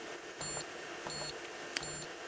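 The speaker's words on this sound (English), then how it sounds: "Hitting any other key will result in an error or beep." A Flexim energy meter keypad gives off short, faint electronic error beeps, three evenly spaced tones plus one brief sharp click, over steady background hiss with no talking.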